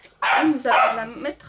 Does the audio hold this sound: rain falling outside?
no